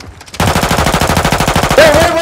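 Rapid automatic gunfire from the Call of Duty video game rattles in a fast, steady burst of evenly spaced loud shots, close and dominant, ending with a rising tone as a voice begins shouting.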